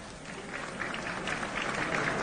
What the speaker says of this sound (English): Please give all of our award winners a well-deserved round of applause